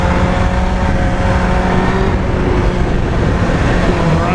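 Honda CBR954RR FireBlade sport motorcycle engine droning steadily and loud while being ridden, a continuous close engine roar with heavy wind noise and no speech.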